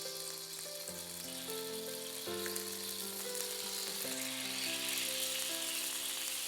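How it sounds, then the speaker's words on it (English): Soy sauce sizzles gently in a tablespoon of hot oil in a pan, a soft, steady hiss that stays faint beneath melodic background music. "In the pan, with that 1 tablespoon of oil, add 2 tablespoons of soya sauce"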